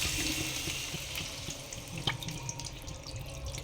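Water pours steadily into a cooking pot of chicken stew with spices and green chillies, a continuous splashing flow with no speech.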